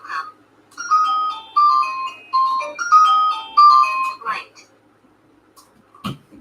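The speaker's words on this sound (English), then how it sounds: "Woke up with an alarm going off like crazy." A room alarm or ringtone goes off, sounding a melodic run of repeated bright electronic beeps for about four seconds before stopping, followed by a couple of faint clicks.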